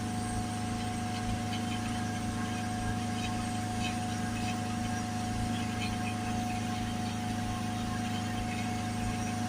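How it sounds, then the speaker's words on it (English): A Mercedes C-Class 2.1 diesel engine idles with a steady, even drone and faint mechanical clatter, unbroken and close for the whole stretch. "So we'll let the engine idle back down"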